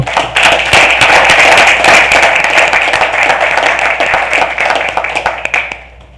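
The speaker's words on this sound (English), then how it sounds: "let's give them a round of applause" An audience at a school board of education meeting claps in sustained applause, dense and lively, that holds steady for several seconds before fading out at the end.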